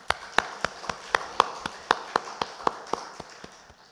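A church congregation at a Sunday service claps in a steady rhythmic beat, about a dozen crisp, evenly spaced claps that taper off at the end, fairly faint and without talk.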